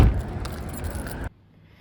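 Keys jangle in a short, close metallic rattle lasting just over a second, then cut off sharply into near silence.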